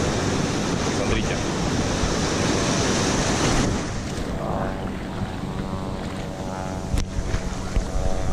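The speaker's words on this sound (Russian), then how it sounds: "опять волна" Cold winter waves wash and slosh loudly around a swimmer at an open-water winter bathing spot, with wind buffeting the microphone. The surf grows somewhat calmer partway through.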